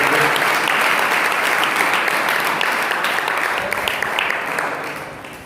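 An audience claps steadily to welcome area church leaders at the inauguration of a 2021 Vacation Bible School mission event. The applause is dense and sustained, fading slightly toward the end.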